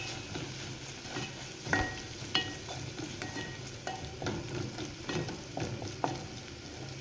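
Tomatoes with coriander, vegetable sabji masala and chili powder frying in a pan while being stirred, a low steady sizzle broken by repeated spoon scrapes and taps, close and with no talking.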